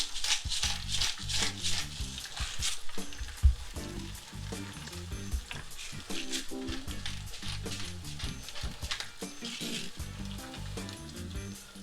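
Eggs fry sunny side up in a pan, a continuous close sizzle with crackling spatter bursts and the odd faint clink of utensils.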